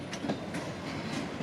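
A train creeping slowly through a busy rail yard at Avondale, with rhythmic clickety-clack of wheels over rail joints and low rumbling, close and steady.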